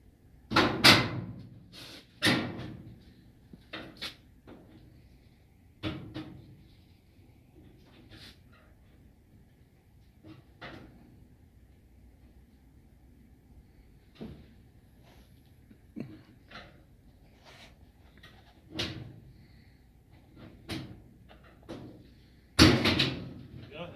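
Plastic tabs on the front panel of an overflowing, leaking GE washer snapping loose as a flat metal scraper pries it off: several sharp clicks and thumps in irregular bursts, close by, with someone talking between them.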